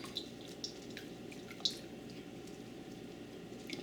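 Whey drips in soft, sparse droplets from homemade mozzarella as it is pressed and rolled, a few faint splashes over a low steady background hum.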